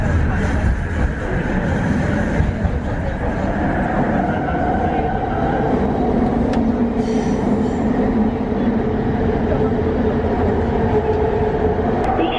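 A metro train on the MRT Putrajaya Line in Kuala Lumpur, Malaysia, running on rails, with a steady loud rumble, wheel noise and a tonal hum throughout, plus faint voices in the carriage.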